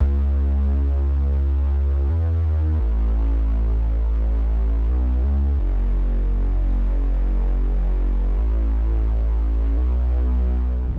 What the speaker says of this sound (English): For the bass, I use the Reese bass from my upcoming Cinema soundpad